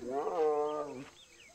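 A cartoon tiger lets out one loud, tonal roar lasting about a second in an animated children's adventure, standing alone before fading into quiet.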